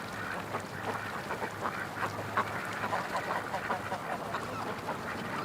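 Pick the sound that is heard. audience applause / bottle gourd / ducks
ducks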